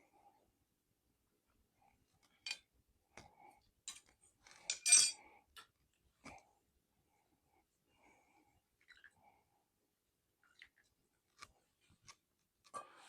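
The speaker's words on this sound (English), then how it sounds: "Get my spoon here and stir this up." A metal spoon stirs coffee in a cup inside a tent, making faint, sparse clinks and scrapes spread out over a quiet background.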